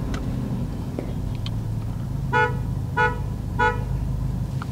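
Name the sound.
Toyota Yaris car horn heard from inside the cabin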